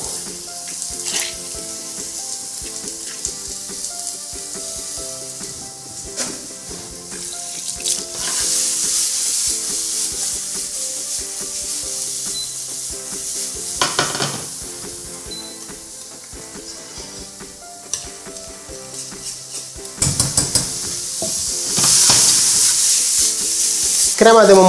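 Mushrooms frying in butter with lemon juice, a continuous sizzle with repeated spatula stirs and scrapes, growing louder and sharper toward the end, close and without speech.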